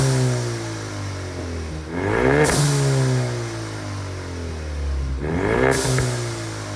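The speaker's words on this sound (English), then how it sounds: "you guys heard the blow-off valve adapter" A 2019 Ford Mustang EcoBoost with a blow-off valve adapter revs twice, and each rev ends in a sharp whoosh as the valve vents. The car is close and loud, and it idles between the revs. No one speaks.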